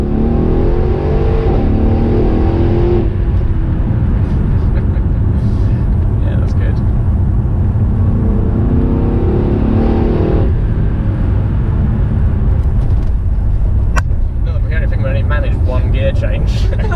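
A 679bhp Mercedes E63 AMG engine roars steadily from inside the cabin, swelling and shifting in pitch through several surges, with people talking throughout.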